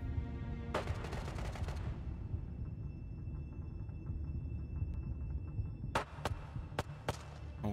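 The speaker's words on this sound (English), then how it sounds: "He just shot the wall." Gunfire in the VR shooter game Ghosts of Tabor: a sustained burst at first, then after a pause a few sharp separate shots over a steady low rumble.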